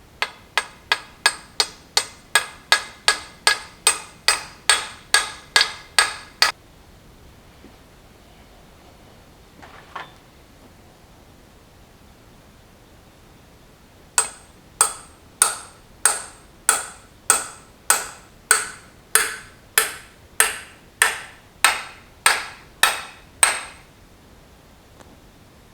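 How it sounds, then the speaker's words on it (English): A ball peen hammer taps a seal into a New Holland TL90 lower hitch arm. A long run of sharp, evenly spaced metallic strikes is followed by a pause, then a second steady series of ringing taps. "Just use my ball peen hammer and get it started back in there"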